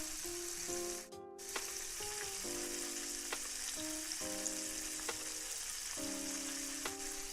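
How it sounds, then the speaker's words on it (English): A glaze bubbles and sizzles in a pan over stove heat, a steady close crackling hiss with tonal ringing notes over it, with no talking. "Have that on the heat there, bubbling"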